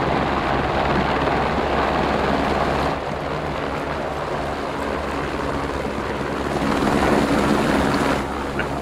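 A helicopter in the video game Squad gives off a steady rotor and engine drone, a continuous low rumbling wash with slight swells, running alone without talk.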